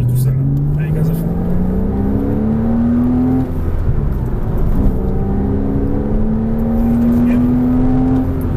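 Car engine at full throttle on a race track, a loud climbing whine that rises in pitch, drops briefly at a gear change and then climbs again, heard close up from inside.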